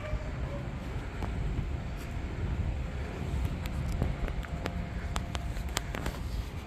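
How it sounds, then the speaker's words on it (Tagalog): Strong wind blows steadily outdoors near trees with soft branches, a continuous broadband roar with gusty buffeting against the microphone and no one speaking. "Lakas ang hangin"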